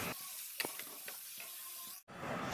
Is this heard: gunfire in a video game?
no